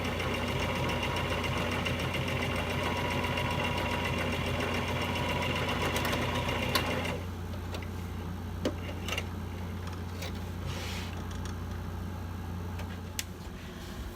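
Sewing machine stitching a curtain seam, a steady mechanical whirring and ticking that runs for about seven seconds, then stops, leaving a quieter hum with scattered small clicks.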